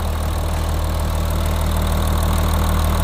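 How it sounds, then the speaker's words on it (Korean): Audi A7 55 TDI quattro (4G generation) diesel engine idling in the engine bay, a steady, continuous low rumble held at an even level throughout, with no talking over it. "엔진 소리 일정하네요"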